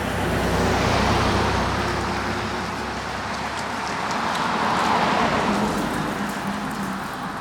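Road traffic passing a roadside mailbox installation on what sounds like wet pavement: a vehicle swells past with tire hiss, fades, then another builds, a steady washing roar near the roadside.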